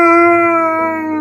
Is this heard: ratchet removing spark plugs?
no